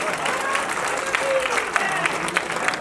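At a Hindi poetry gathering, an audience gives lively, continuous applause with scattered sharper claps standing out, while a voice speaks over it.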